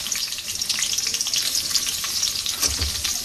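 Chopped onions hit hot oil in a wok already holding cinnamon, cardamom, bay leaves and cloves, giving a steady, dense, close sizzle that continues evenly throughout.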